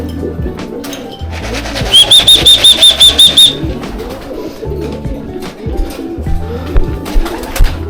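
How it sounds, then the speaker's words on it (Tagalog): Racing pigeon returning to a loft during a third-lap derby race in Ilocos Sur, giving a run of about eight evenly spaced whistling coos in a burst lasting over a second, heard near and clear over steady background noise. "Uy, second bird si Dagit"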